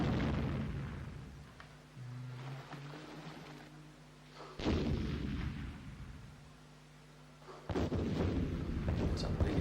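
Explosions in the CD-i Battleship video game as a battleship is sunk: deep booming blasts with rumbling bursts, a heavy hit near the middle and another toward the end, loud and close with no talking.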